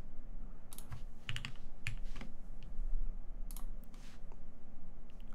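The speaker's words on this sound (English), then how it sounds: "Let's do some typing races." Someone types on a TGR Jane V2 mechanical keyboard fitted with lubed Tealios switches, producing bursts of close, crisp key clicks and clacks over a low background hum.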